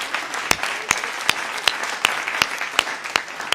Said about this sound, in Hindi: यहां तालियां आती हैं